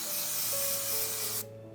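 Hair spray hisses in one continuous close burst over fringe bangs lifted with a tail comb, lasting over a second before cutting off abruptly, with no talking.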